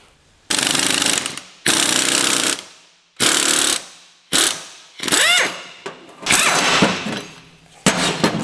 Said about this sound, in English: then we're going to remove these spring compressors